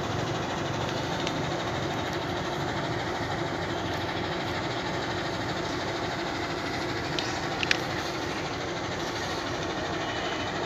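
A Jakarta-Bandung high-speed train is pulling out of its depot. A steady, even rumble of rolling stock and machinery carries through the whole stretch with no talk, and one faint clack sounds near the end.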